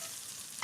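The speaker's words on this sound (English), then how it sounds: "the cinnamon stick and your bay leaves with your butter just sizzling away there" Butter sizzles steadily in a pan with garlic, coriander seeds, a cinnamon stick and bay leaves, a close, even frying hiss with a faint scrape of stirring near the end.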